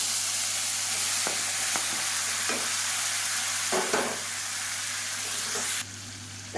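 Garlic and tomatoes sauté in a hot pan with a steady, close sizzle, occasional scrapes of stirring rising above the continuous frying hiss.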